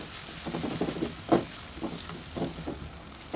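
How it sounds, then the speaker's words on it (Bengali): Chow mein sauce mixture with sugar and salt stirred in a hot pan: faint, soft sizzling with a few quiet spatula scrapes at irregular intervals, no voices. "দিয়ে এটাকে আমি 1-2 মিনিট ভালো করে নাড়বো।"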